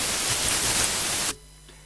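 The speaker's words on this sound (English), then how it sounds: "All this is white noise." Steady, loud white-noise hiss from three noise oscillators in a 3xOSC synth plugin, running flat and dense before cutting off abruptly into near silence.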